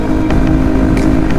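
Yamaha WR450F supermoto motorcycle cruises at highway speed in fifth gear, a loud steady single-cylinder engine drone mixed with wind rush, with faint ticks over the continuous roar.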